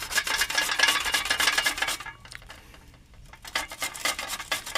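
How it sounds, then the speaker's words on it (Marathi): Tender cucumber rubbed against a grater makes rapid rhythmic rasping strokes, close and fairly loud, with a quieter pause in the middle before the grating picks up again. "तर हे पहा, इथे काकडी किसत आहे"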